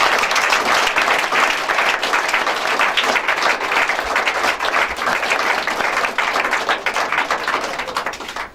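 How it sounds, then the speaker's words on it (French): A church congregation at a Friday prayer programme bursts into sustained, loud applause and cheering, a dense wash of clapping and voices that continues throughout before fading slightly at the end. "Est-ce qu'on peut acclamer Jésus-Christ de Nazareth?"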